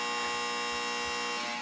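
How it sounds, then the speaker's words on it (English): A buzzer drones steadily, a loud, continuous electronic buzz rich in harmonics that holds for nearly two seconds, with no voices over it. "And that's the buzzer."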